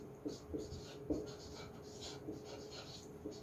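Pen or chalk strokes scratch softly and faintly in a quiet room during a lesson on the bilingual method, in short irregular bursts with a low hum beneath.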